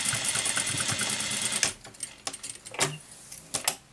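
A sewing machine stitches a fabric scrunchie tube in a rapid whirring run that stops after about a second and a half, followed by scattered clicks and handling sounds, close by.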